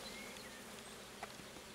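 Honeybees from a Carpatica colony hum faintly around an opened hive with Dadant frames, a soft continuous buzz with a brief louder flyby near the middle.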